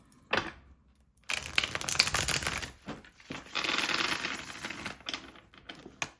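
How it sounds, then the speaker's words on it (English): Tarot cards shuffled by hand in a quiet room, a few separate bursts of crisp papery riffling and flicking with short pauses between them, close and fairly soft. "just going to give these a good shuffle"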